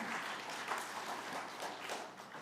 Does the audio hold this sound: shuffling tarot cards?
no